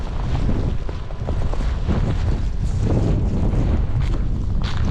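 Strong winter snowstorm wind roars steadily and loudly throughout, buffeting close against the microphone with dense, continuous gusting and no breaks.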